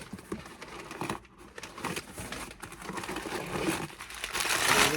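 Packing paper crumples and crinkles continuously while a package is unboxed, a close, dense rustle that grows louder toward the end.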